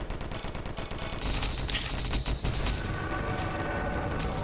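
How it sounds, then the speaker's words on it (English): Chain explosion in the video game DISFIGURE, a dense burst of rapid blasts and crackling booms that runs loud and continuous through the whole stretch, with no talking. "Chain explosion killed the spider."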